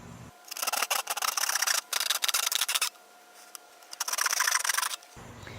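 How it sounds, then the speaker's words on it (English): A handsaw cuts through a plastic bucket with bursts of rapid, raspy back-and-forth strokes, loud and close, broken by short pauses between runs of sawing. "Now we'll use our handsaw to cut out our marking."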